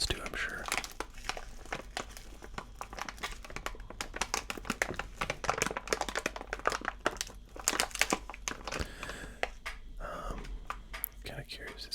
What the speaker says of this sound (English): This packaging makes some nice crinkly sounds too